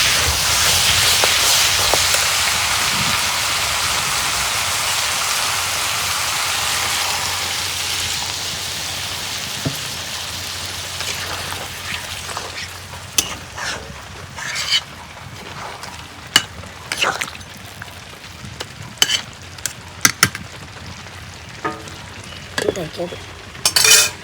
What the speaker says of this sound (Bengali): এখানে আমি অল্প পানি দিয়ে আবার কষে নেব।